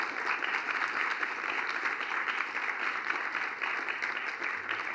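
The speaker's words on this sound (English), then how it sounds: "if we can give them a round of applause from the audience as well" Applause from an in-person audience at a thematic conference session on decent work and economic growth, a steady moderate patter of many hands sustained throughout, somewhat distant and alone.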